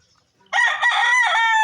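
A rooster crows loudly and close by on a farm with nearby forest and dragon fruit plants, one sustained cock-a-doodle-doo call starting after a brief quiet moment and holding strong to the end.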